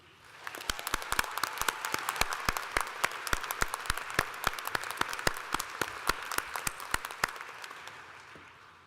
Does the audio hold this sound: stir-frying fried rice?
no